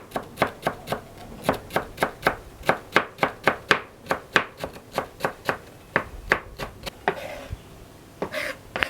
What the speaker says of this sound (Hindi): ये थोड़ा सा धनिया हमने लिया हुआ है, तो इसको भी काट लेते हैं जी इस तरीके से